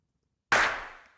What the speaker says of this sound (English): a different type of clap.